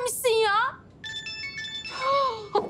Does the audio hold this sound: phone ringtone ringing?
yes